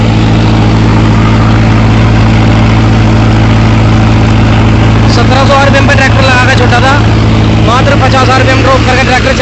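A tractor engine runs steadily under load while powering a VS Punni multicrop thresher during wheat harvesting, a loud constant low drone with someone talking over it partway through.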